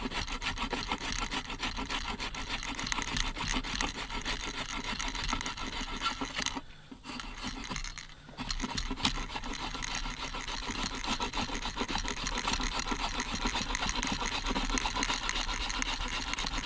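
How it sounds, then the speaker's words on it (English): A survival shovel's serrated edge saws through wood, giving a steady, close rasping stroke that runs nearly continuously with a brief pause partway through, no talk. "You get some pretty nice fine shavings though off the serrated edge."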